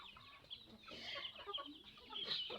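Chickens cluck and chatter close by on a rural farm, a busy overlapping flock with sharper calls near the end.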